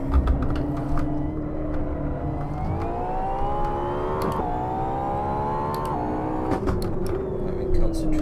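The LaFerrari's engine in the Assetto Corsa racing game drones and rises in pitch through the gears, dipping briefly at shifts, with someone talking over it throughout.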